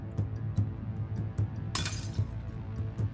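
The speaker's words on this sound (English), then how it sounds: "I throw the glass potion to the floor." A glass potion smashes on the floor in a video game, one bright sudden shatter that rises over a low ambient background and rings on briefly as it fades.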